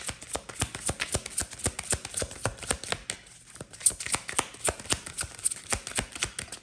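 Tarot cards shuffled close up: a steady, rapid run of crisp papery flicks and taps with a brief pause midway, loud and dry, no voices.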